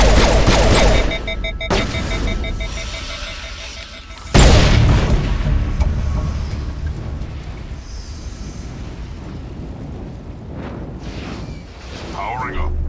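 Mass Effect gunfire on Noveria: a loud boom at the start and a sharp blast near four seconds, then sustained battle rumble and scattered shots beneath game sound and voices.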